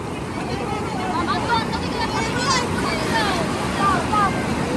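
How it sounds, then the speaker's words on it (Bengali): Large ocean waves break near a river mouth, a loud continuous roar and wash of surf with wind buffeting the microphone throughout. "পেছনের ঢেউটা আরো বড় আসছে।"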